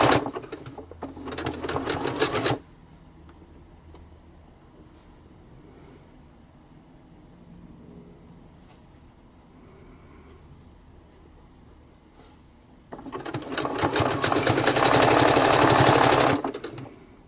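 Sewing machine zigzag stitching fabric ruffles, two loud bursts of rapid mechanical stitching at the start and end with a quiet pause in between.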